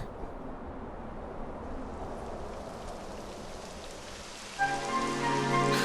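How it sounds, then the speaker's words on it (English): Steady rain patters on surfaces in the Dragon Quest XI game world, a constant close hiss that continues throughout, with a musical tone entering near the end. "It would have to go and start raining, wouldn't it?"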